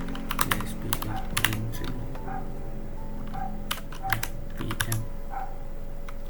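Commands typed on a computer keyboard to check PHP 8.3 status on a Proxmox server, bursts of close, crisp keystrokes in quick runs with short pauses, a few words spoken between.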